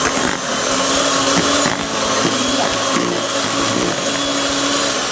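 Electric hand mixer beating egg and vanilla into sugar for a bar dough, a steady close motor whir running without a break.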